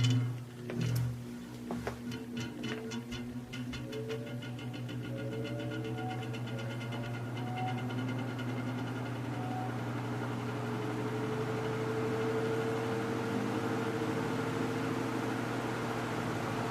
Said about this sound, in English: Nice motor harmonics.